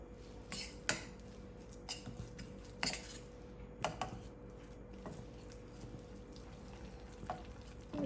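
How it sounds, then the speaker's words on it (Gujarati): Boiled black chickpeas roast in a pan with a faint, steady sizzle, while a spoon stirs and clinks against the metal every second or so. "ચણા શેકાઈને રેડી છે."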